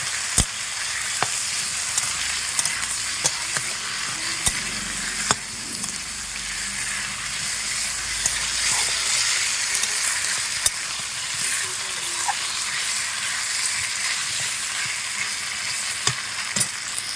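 A chicken curry with potatoes fries and sizzles in a pan, a constant close hiss broken by occasional clicks and scrapes from stirring, with no voices.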